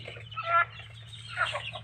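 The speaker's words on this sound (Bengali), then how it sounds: "এগুলি হচ্ছে আমাদের নতুন মুরগি এই মুরগিগুলি কালকে আনছি" Newly brought-in hens cluck softly in short bursts close by, over a low steady background hum, with no talking.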